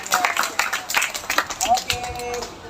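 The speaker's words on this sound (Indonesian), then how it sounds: "Tepuk tangan untuk kita semuanya" A class of schoolchildren claps together as a group, with uneven bursts of clapping mixed with voices and cheering, close and fairly loud.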